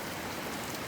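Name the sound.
hail falling during roof install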